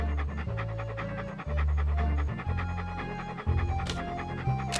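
Walt the dog in Monkey Island 2 pants steadily over a looping game music score, a synthesized rhythmic breathing that runs through the whole passage at moderate loudness with no talk.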